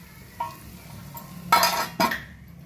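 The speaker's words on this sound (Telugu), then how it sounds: "మూత పెట్టేస్తున్నాను" A lid is set on a pot of Andhra-style eggplant and onion-chili curry, giving two sharp metallic clanks over a soft background hiss.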